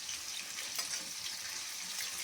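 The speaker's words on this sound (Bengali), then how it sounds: "পাকোড়াগুলো ভাজা হয়ে গেল, দেখেছেন লাল লাল মতো, লাল লাল করে ভাজা হয়েছে।" Chicken pakoras deep frying in hot oil in a wok, a steady, bright sizzle running evenly throughout with one brief louder crackle near the middle, close and with no voices.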